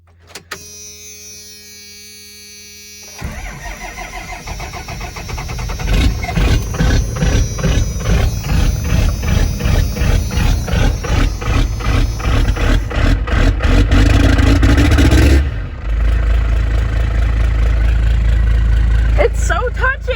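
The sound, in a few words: 12-valve diesel engine of a 3rd gen truck starting and revving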